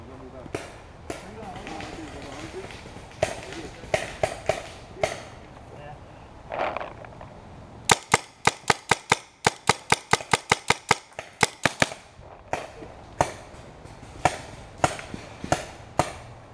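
Paintball markers fire during an outdoor paintball game, sharp snapping shots in scattered singles and then a rapid burst of closely spaced pops, mixed with nearby players talking and footsteps.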